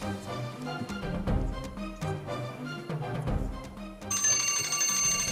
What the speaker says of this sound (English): On the bell, Abubakar.